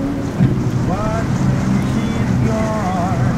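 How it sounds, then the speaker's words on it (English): Strong wind buffeting the microphone at a beach facing Daytona Beach Shores during Hurricane Bill, a loud continuous roar with a voice speaking under it. "Wind is picking up."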